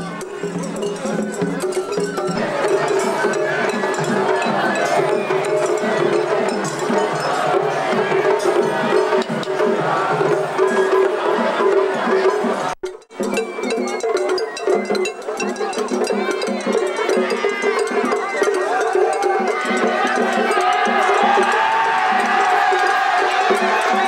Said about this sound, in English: Festival carts meet at a cross point and music and dancing battle and cheering battle are